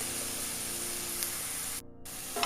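Tomatoes hit a hot oiled pan for a bottle gourd gravy, giving a loud, steady broadband sizzle and hiss that drops out briefly near the end before resuming.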